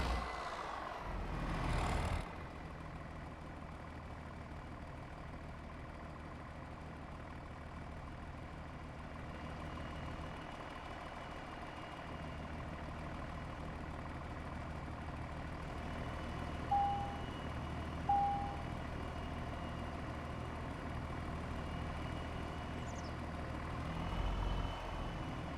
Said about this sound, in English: There's one thing I cannot do in this game right now is backing up trailers.